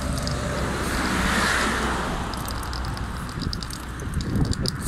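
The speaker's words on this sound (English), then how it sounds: "A truck gone past, a white van truck." A white van truck drives past outdoors, a soft passing whoosh of tyres and engine that swells and fades over a few seconds, mixed with wind noise.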